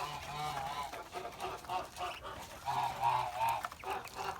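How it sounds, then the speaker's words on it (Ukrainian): Kholmogory geese honk repeatedly nearby, several birds calling over one another in a noisy, continuous chorus with no talking. "Тут наші гуси, мортуси"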